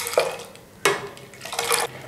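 Kashmiri pink chai is whisked in a pan after ice-cold water is added, giving three quick bursts of scraping, splashing strokes, each separated by a short pause.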